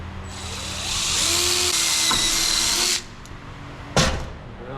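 A power drill boring a hole through a template for a 1967 Chevelle hinge bracket, a loud whining spin-up that holds steady for about two seconds, cuts off, then a brief sharp clunk follows.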